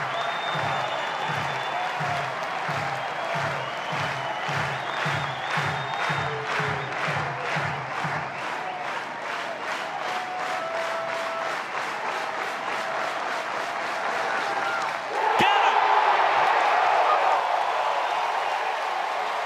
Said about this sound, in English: This crowd erupts on the plains.